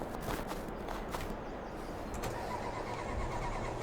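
A truck engine in the Farming Simulator game cranks and catches into a steady, loud rumble that fills the whole clip, with faint clicks over the top.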